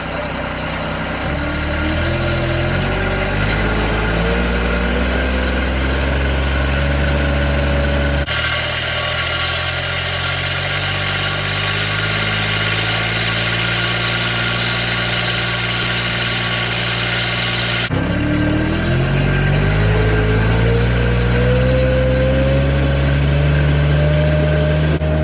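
Engine of a Japa 405 firewood processor revving up from idle, pitch climbing steadily, holding at a high steady drone, then dropping and rising again; loud, close and continuous.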